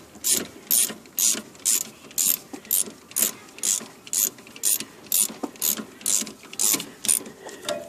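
A ratchet wrench clicks in fast, even bursts as a bolt is tightened during a rear brake pad job on a 2009 Mazda 6. The clicks are loud and close, with no voice over them.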